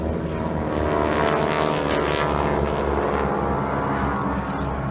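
A propeller training aircraft flying a wing-walking display at the Farnborough Airshow drones loudly and steadily overhead, its engine roar swelling slightly as it passes, with no talk.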